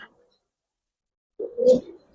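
A pigeon, a Silver Giribaz breed, gives one short, low throaty coo close by after a stretch of silence, with a faint bird call at the very start.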